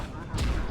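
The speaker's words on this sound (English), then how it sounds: "I shot him twice and he didn't get hit the second time." A single loud gunshot cracks out partway through a brief moment of the video game Alan Wake, a sharp burst over a low background rumble.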